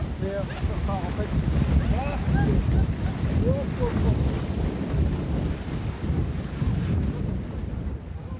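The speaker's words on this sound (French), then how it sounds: "Il y a trop de vent là, vraiment, pour un kiter?" Strong wind buffets the microphone with a constant roar on a beach during a kitesurfing event, surf rumbling underneath and faint bird-like chirps early on.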